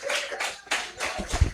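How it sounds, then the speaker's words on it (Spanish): A church congregation applauding at a Sunday family retreat service, a burst of clapping that swells and fades in uneven waves, fairly close, with a low thump near the end. "denle ese aplauso fuerte al Señor"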